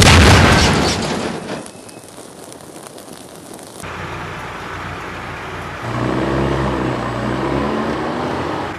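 A loud explosion in Garry's Mod opens with a sharp, bright blast that decays into a rumbling tail, followed by a low engine-like drone that swells again toward the end.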